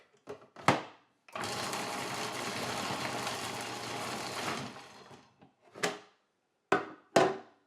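A Breville food processor runs in one sustained whirring burst of about three seconds while struggling with its load, with short bangs and clunks before and after the run.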